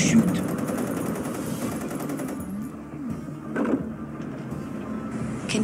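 Rapid machine-gun bursts and scattered shots in the real-time strategy game Red Chaos, crackling under game voice lines and a steady low battle rumble throughout.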